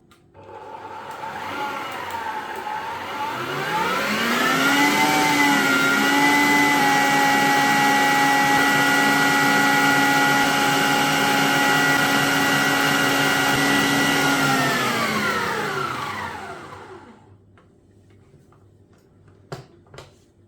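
Electric hand mixer whipping egg whites with sugar and salt on high speed, a steady motor whine that rises as it spins up, holds for about twelve seconds, then winds down and stops, followed by a few light clicks.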